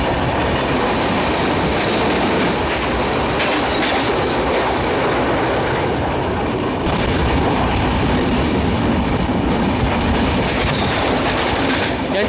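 The Mandovi Express 10103 runs along the Konkan Railway in the monsoon with a loud, continuous roar of wheels and carriages, steady clickety-clack and occasional squeal, heard close from on board.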